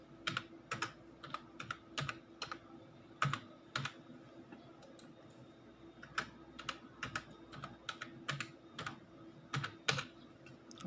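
Steady, quiet typing on a computer keyboard as a password is entered, irregular bursts of close key taps over a faint background hum.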